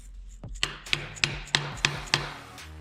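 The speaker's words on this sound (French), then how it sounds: "Après je mets juste 2-3 coups de maillet pour bloquer la douille" A mallet drives a hex key into a socket on a Toyota 2JZ engine being rebuilt: six sharp, evenly spaced taps land close by in a steady rhythm, with no talking.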